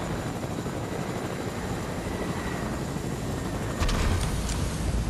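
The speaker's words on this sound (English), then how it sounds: "James, wanna drive another helicopter?" Helicopter rotor and engine noise in Fortnite, a steady broadband whir that holds evenly throughout, swelling slightly louder near the end.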